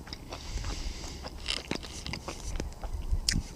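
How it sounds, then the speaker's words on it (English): Close, soft chewing of mushrooms, onion and bacon eaten at a snowy wild camp, a run of irregular moist bites and munches with small clicks, no talking. "Apologies for the munching sounds."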